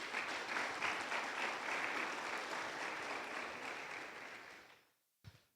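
A church congregation applauds in a sustained, busy patter of many hands, which then fades away to near silence and ends with a single soft thump.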